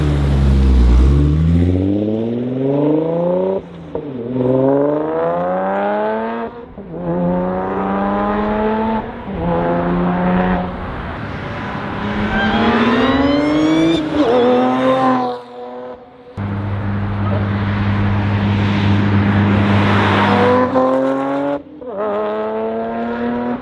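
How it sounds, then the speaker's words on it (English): Audi S5 B8.5 with a single-pulley supercharger and 6-speed manual, heard from outside as it accelerates hard through several gears, rising supercharger whine and exhaust roar with sharp shift breaks, loud and close. "get some flybys so you can really hear the supercharger whine and the exhaust"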